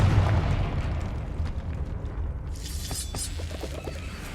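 A Confringo fire spell going off in Hogwarts Legacy, a heavy rumbling blast that fades out, then bright crackling and shattering debris a couple of seconds later, with no talk.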